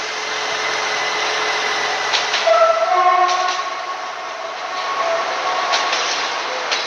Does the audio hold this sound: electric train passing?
yes